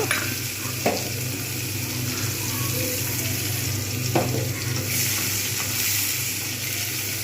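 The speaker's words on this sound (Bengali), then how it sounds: "এবার আমি এর মধ্যে পেঁয়াজটা দিয়ে দেবো ভালো করে ভেজে নেব" Onion fries in hot oil with chopped dried chilli, a steady close sizzle with a few scraping stirs and knocks of the spoon, heard alone without talk.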